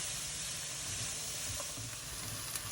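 Onions and other ingredients for spaghetti ragu sauté slowly in a pan, giving a steady, close sizzle and hiss throughout, with a few faint stirring clicks and no voices.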